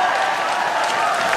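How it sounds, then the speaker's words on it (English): Labour party conference crowd applauding and whooping, a dense, steady wash of clapping and cheers filling the whole moment without a break. "Now that's real applause."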